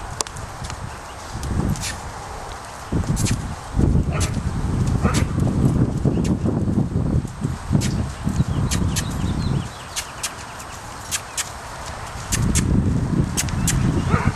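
A young colt under a rider on his first ride clip-clops in uneven bursts of hoofbeats, near and fairly loud, with pauses, faint birds and occasional outdoor noise between.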